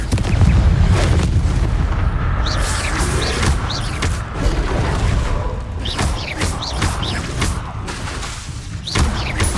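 A Confringo spell detonates in Hogwarts Legacy, producing repeated booming blasts and thuds with sharp crackling bursts scattered across the clip, loud and dense with little pause between impacts.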